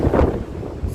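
Wind gusting into a microphone outdoors at night in Russia: a loud, close, low buffeting rumble that rises and falls over one second, with no voices.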